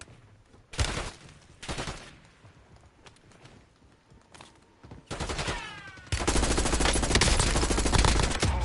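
Automatic gunfire in a video game: several short separate bursts early on, then a loud, dense sustained stream of rapid shots close up, with no talking.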